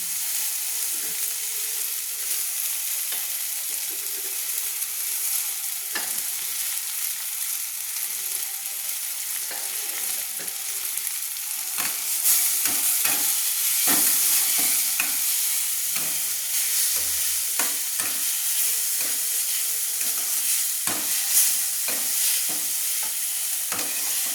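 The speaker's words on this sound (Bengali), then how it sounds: "মুগ ডাল রান্না করলে প্রথমে ডালটাকে ভেজে নিতে হবে।" Dry moong dal is fried and stirred in a pan, a continuous hiss broken by frequent scraping strokes and light clinks of a spatula, close up and without talk.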